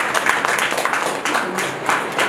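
An audience at a program in Shirdi claps in brief, dense applause, a close burst of many hands that stays steady for a couple of seconds.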